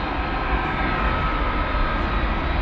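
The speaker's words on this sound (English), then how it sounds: "we have this A300 just pushing back, Flight 761" Airbus A300 jet pushing back at DFW Airport, a steady loud engine hum and whine with constant broadband roar and no break.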